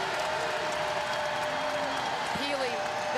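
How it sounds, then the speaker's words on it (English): Crowd cheering and applauding in a basketball arena during an NCAA women's second-round game between Gonzaga and Utah, a continuous roar with a brief whistle-like tone near the end. "Crowd is up."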